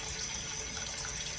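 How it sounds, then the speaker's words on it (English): Water pours steadily into a cooking pot in the kitchen, a continuous close splashing rush with no pauses and no speech. "You're going to put about that much water in the bottom of your pot."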